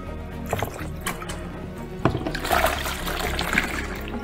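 Water poured onto dry coconut fiber substrate for a biOrb aquarium setup, a close, loud splashing pour with trickling and fizzing as it soaks in, no talking.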